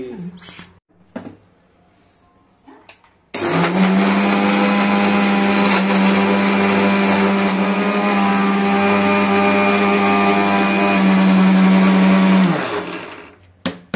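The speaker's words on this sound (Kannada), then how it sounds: "ಈಗ ನಾವ್ ಏನ್ ಮಾಡೋದು, ಮಿಕ್ಸಿ ಮಾಡೋದು." After a quiet start, a mixer grinder whirs loudly and steadily for about nine seconds as it blends flaxseed chutney, then winds down and stops.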